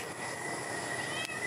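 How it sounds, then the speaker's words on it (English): A cat meows once, drawn out and fairly close, over a faint steady background hum. "Oh, there's a cat."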